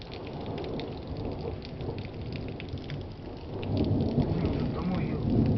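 A thunderstorm in Verkhnyaya Salda: steady rain hisses and patters throughout while low thunder rumbles underneath, swelling louder toward the end, with a faint voice briefly heard.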